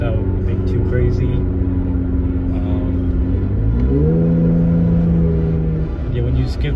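A Jeep fitted with a Pedal Commander, its engine droning loud and near and rising in pitch as it revs, then shifting down to a lower steady hum, with a voice speaking over it.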